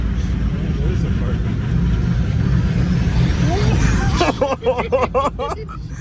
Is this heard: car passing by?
yes